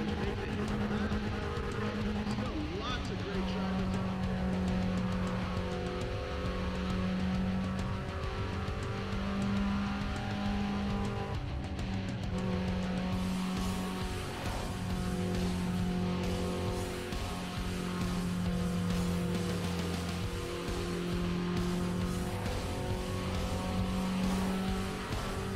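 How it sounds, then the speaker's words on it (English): A car engine in Need for Speed: Pro Street bounces off the rev limiter, a steady high-pitched drone that stutters in repeated pulses for the whole stretch, loud and alone. "Rev limiter intensifies."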